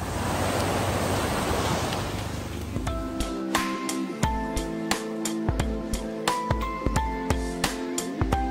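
Ocean surf along the beachfront at Nasugbu Bay gives a broad wash of waves for the first few seconds, then gives way to a series of sharp, regular clicks and tones over a quieter background.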